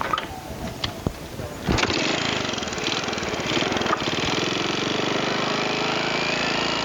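Motorbike engine running in a workshop setting, a close, buzzing mid-pitched drone that starts after a couple of clicks and thumps, then holds steady and fairly loud with slight throttle wavering.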